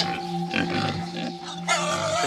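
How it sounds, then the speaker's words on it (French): Pigs grunt and oink close by on a farm at night, a few short bursts over a steady background hum. "C'est les cochons qui m'ont réveillé."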